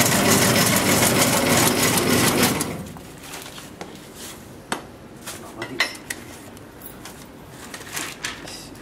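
A multi-function meat strip and slice machine whirs loudly and steadily for about three seconds as it cuts meat, then stops, leaving quieter scattered clinks and knocks.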